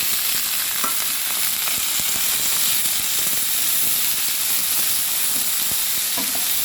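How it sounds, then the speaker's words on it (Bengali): Potatoes frying with ridge gourd and mashed boiled potato in a pan, a steady close sizzle and hiss running throughout with occasional stirring scrapes and no talking. "এবার আবার ভালো করে ভাজতে থাকবো সব কিছু দিয়ে"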